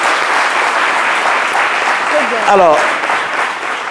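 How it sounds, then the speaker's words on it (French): An audience claps loudly in a steady, dense burst, with a voice briefly speaking over it. "J'aimerais qu'on l'applaudisse bien fort"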